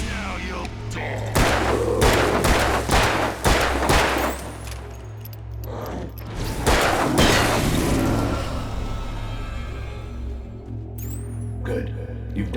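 Several loud gunshots ring out in the Alan Wake video game, sharp bursts spread across the scene over a low rumbling background, with a few spaced shots near the end.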